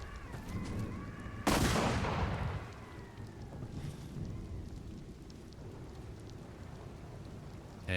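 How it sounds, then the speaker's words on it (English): A rocket-propelled grenade fired in Fallout 4 bursts out as a sudden loud whoosh and blast, then trails off into a long rumbling decay over steady rain-like ambience. "They're firing RPGs at us."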